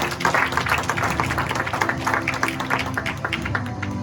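Applause and clapping at a youth kickboxing event at Amerikick Medford, a dense crowd patter filling the room steadily with some tonal background hum underneath.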